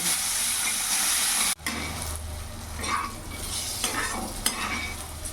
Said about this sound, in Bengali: এবার ভালো করে ভাজা ভাজা করে নেব।